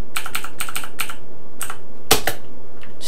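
Typing on a computer keyboard while playing a Sinclair ZX Spectrum game, with bursts of rapid close key clicks, a pause, then a few louder strikes.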